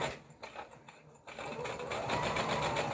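Sewing machine stitching across the end of a curved fabric piece, a close whirring hum that starts in short bursts and then settles into a continuous, steady run.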